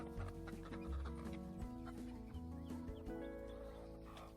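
Several chickens cluck and murmur close by, overlapping in a busy, continuous chatter.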